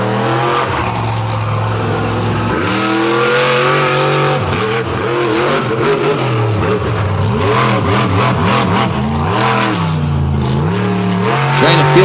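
A monster truck's engine revs loud and close on a beach course at a monster truck show. Pitch rises and falls repeatedly with throttle blips, and an announcer talks over it.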